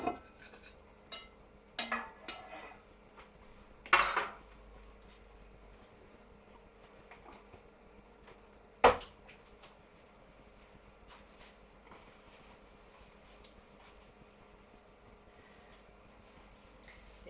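Cooked fish and vegetables being served onto plates with utensils in a home kitchen, a few sharp clinks and scrapes of metal on crockery near the start and again briefly later, over a quiet low background hum.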